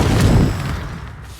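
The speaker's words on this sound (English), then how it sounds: "a good little trick here when you are doing explosions is to sink it a little bit into the ground like that" A video game explosion in Astroneer, set off sunk slightly into the ground, gives one loud deep boom with a rumbling low-end tail that fades over about a second, heard alone.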